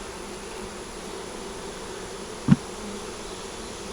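Honey bees hum at an open hive in a soft, even, continuous drone, with a single sharp knock partway through.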